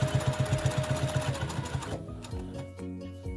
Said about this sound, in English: what I'm going to do is I'm going to sew this.